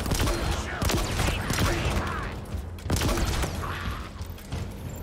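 The Hydra, a grenade-launcher-like weapon in Halo Infinite, fires in two bursts of rapid sharp shots with mechanical clatter, loud and close, amid game noise.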